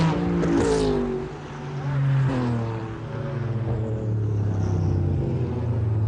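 Porsche race car competing at Le Mans in 1996, its engine rumbling and revving as it runs wide at a corner exit, a sustained moderately distant roar that dips and swells, with a commentator talking over it.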